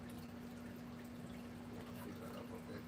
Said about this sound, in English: My peacock tank need to get some more water, so I'm gonna fill it up a little bit.